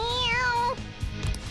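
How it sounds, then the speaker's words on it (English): A cat character, Morgana (Mona), meows in Persona 5 Royal: one drawn-out, clear, tonal meow with a slight rise and fall, up close, followed by soft low game background sound. "Meow."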